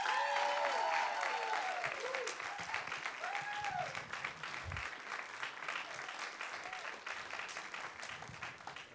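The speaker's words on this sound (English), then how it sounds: "Give a warm round of applause for our final storyteller of the night, Paul Davis." Live audience at a science storytelling show applauding a storyteller, dense sustained clapping that gradually softens, with brief cheers and vocal whoops over the top early on.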